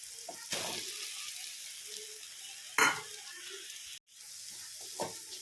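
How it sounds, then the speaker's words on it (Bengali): Soybean paste is stirred into fried spices in a pan, giving a soft background sizzle broken by a few scraping stirring strokes, one of them sharp and louder. "সয়াবিনটা দিয়ে এটাকে একটু হালকা নাড়াচাড়া করব।"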